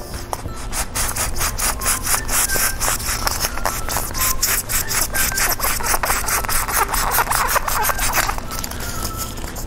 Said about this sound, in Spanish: Igual vamos a cortar esta parte, un pedacito.